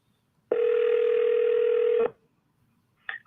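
A telephone line on a cold call gives a loud, steady dial tone lasting about a second and a half, then stops, and a brief dialing beep follows soon after.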